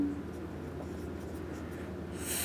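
Chalk or marker scratches faintly against a classroom board while steps are written out, a soft continuous scraping close by under low room noise.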